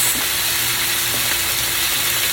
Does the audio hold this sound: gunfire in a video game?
no